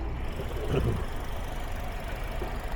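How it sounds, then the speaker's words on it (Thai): A 2023 Toyota Corolla Altis 1.6 G automatic idles with the hood open, a quiet, steady low engine hum with a faint even knock, heard alone from close by. "เครื่องยนต์นี้เดินเรียบเลยครับคุณผู้ชม"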